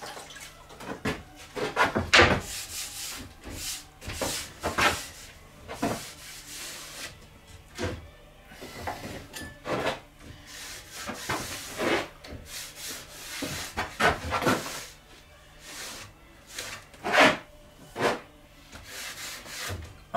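A hot cloth rubs over the woodwork of an 1865 Forster & Andrews organ under restoration, producing repeated close, soft swishing strokes in an irregular rhythm with brief pauses between them.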